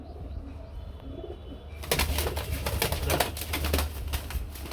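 A pair of Lotan pigeons coo close by, soft throaty calls repeating under a low rumbling background, with sharper chirpy sounds starting partway through.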